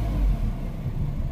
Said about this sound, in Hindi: तो अगर मैं एक्सलेटर पुश करूँ तो ये देखिए RPM मीटर ऐसे बढ़ता है